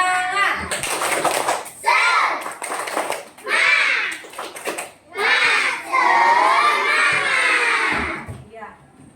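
Second-grade pupils at an Islamic primary school chant the rhythmic 'tepuk semangat' clapping cheer together in their classroom before a maths lesson, loud and close, with shouted young voices and bursts of clapping.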